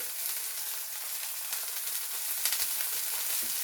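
Steak searing in a hot pan gives a loud, steady broadband sizzle, with crackling spits and pops flaring toward the end; no one talks.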